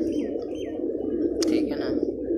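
Pigeons in a large flock of over a hundred birds coo in a low continuous murmur, with brief brighter bird calls and chirps over a steady crowd of cooing.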